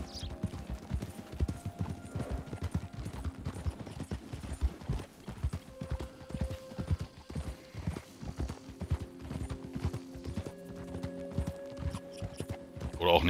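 Horse hooves clip-clopping at a relaxed riding pace in Red Dead Redemption 2, steady and rhythmic in the foreground for the whole stretch, with an occasional whinny and some game music in the background.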